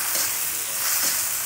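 Onions frying in oil in a kadhai on a stove, a steady close sizzle with faint stirring, no one speaking.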